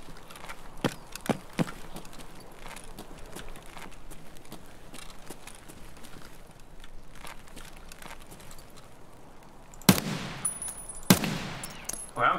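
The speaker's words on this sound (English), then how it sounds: "Is that you shooting?" Gunfire in the game Escape from Tarkov, scattered distant shots early, then two loud close bursts near the end, set against a quiet game ambience.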